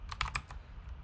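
Four or five quick, crisp keystrokes tap on a computer keyboard up close, then fade into quiet room tone.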